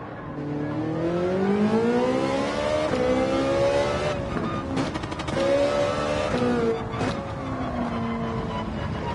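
Engine revs hard in Gran Turismo 7 on the Nürburgring, a loud, rising and falling whine that climbs through the gears, dips sharply in the middle, then swells again.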